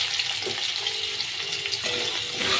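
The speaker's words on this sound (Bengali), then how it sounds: "আলুগুলো কিন্তু একটু ভালো করে ভাজতে হবে।" Potato pieces fry in hot oil tempered with green chillies, giving a continuous close sizzle with light crackling and a brief rise in intensity near the end.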